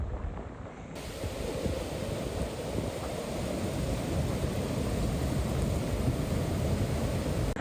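Heavy monsoon rain at Bhandardara near a waterfall swells into a steady, dense roar after about a second, holding a constant wash of noise throughout with no talking.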